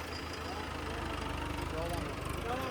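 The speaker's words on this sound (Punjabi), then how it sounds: "ਇਹ 14 ਮਾਲ ਟਰੈਕਟਰ ਆ" A tractor engine idles steadily up close after its speed is set around 1400 rpm, a low even throb with a regular pulse throughout, while faint voices murmur in the background.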